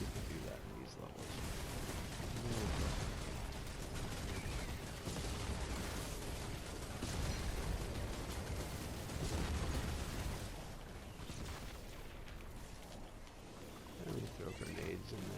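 Grenade blasts in the Fortnite Save the World game erupt in a dense, continuous barrage of booms and rumbling bursts, with game noise and a voice talking over the din.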